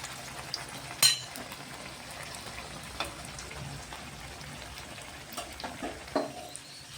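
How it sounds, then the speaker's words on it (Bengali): A mughlai paratha frying gently in a pan over low flame, giving a soft continuous sizzle with a few brief clatters and pops, no voices. "দেখুন মোগলাইটাকে আমি একটু টুকুট করে সুন্দর করে ভেজে নিচ্ছি।"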